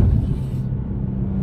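A Nissan 370Z Nismo engine gives a deep, steady rumble at close range, loud and unbroken for a brief moment.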